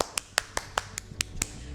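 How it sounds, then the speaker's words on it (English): A group performs a whistle bomb clap cheer, seven sharp, evenly spaced claps in a quick steady rhythm, crisp and fairly close, with a faint murmur beneath. "we would like to give you this whistle bomb clap"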